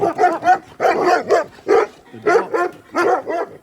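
Several dogs bark in quick repeated bursts close by, loud yaps with short gaps between, and a few whimpering yips mixed in.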